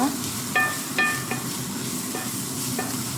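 Carrots and onion cooking in a pan, a soft continuous sizzle with a few sharp metallic scrapes from stirring, close up and without talk.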